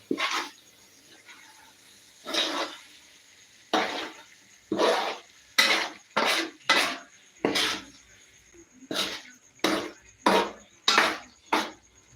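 Chicken curry being stirred in a pan, with a spoon scraping and clinking against the metal in a steady series of about a dozen separate strokes, close and fairly loud, and no talking.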